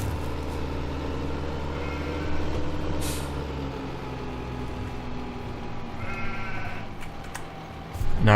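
Sheep bleating in a field in Farming Simulator 2015, a few short bleats rising over a steady low engine-like hum from the game's background.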